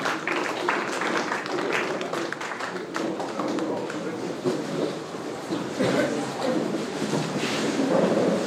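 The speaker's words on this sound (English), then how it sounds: "please let's rise and give a round of applause for our key speaker" A lecture audience rises and claps steadily for the keynote speaker in a dense, sustained round of applause, with a few voices murmuring underneath.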